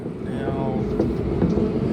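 Packed passenger train rumbling through central Tokyo near Ginza, a steady loud rolling rattle and rail noise throughout with no voices.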